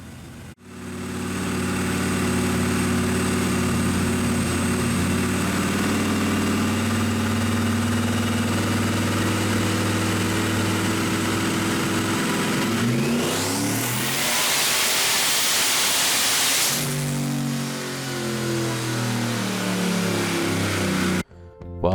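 A tuned, turbocharged car engine making about 610 horsepower at roughly 17 pounds of boost runs on a dyno. A loud, steady drone climbs through a hard full-throttle pull, then drops back as the engine winds down.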